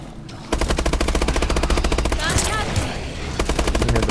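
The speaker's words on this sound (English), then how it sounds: "Wow, that turret cannot aim." Turret gunfire in the Advanced Warfare Exo Zombies video game bursts out as rapid, evenly spaced automatic shots, loud and close, stopping briefly before resuming, with a voice speaking over it.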